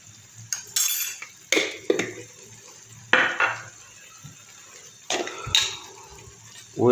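A spoon scraping and clinking in a pot as meat spices are stirred into food, irregular metallic strokes spaced a second or so apart, close and alone.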